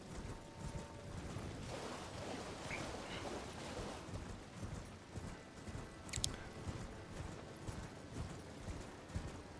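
Horse hooves clip-clopping at a steady riding pace in the video game Elden Ring, with a busy layer of game sound effects and a brief sharp clank partway through.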